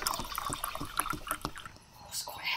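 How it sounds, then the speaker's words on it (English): Water runs from a kitchen tap into a pan, a close, uneven splashing with small clicks and patters that dips briefly near the end. "And you can hear the water now."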